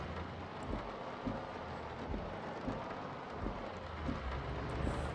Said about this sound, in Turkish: Aha yağmur başladı.